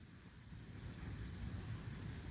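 Wind blows outdoors in a steady low rumble buffeting the microphone, continuous and fairly loud with no talk.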